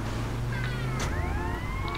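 A police siren in the video game GTA Vice City wails with rising and falling tones over dense, noisy game sound, fairly loud throughout.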